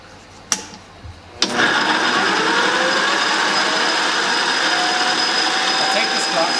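A milling machine spindle spinning at 900 RPM polishes a 0.875-inch aluminum piece with a green Scotch-Brite pad, a steady loud whirring hiss starting after a couple of sharp clicks and holding constant to the end.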